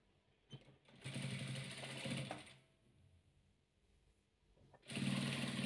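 A sewing machine stitches velour patchwork pieces in two close bursts of fast, even whirring, separated by a pause with faint handling noises and no speech.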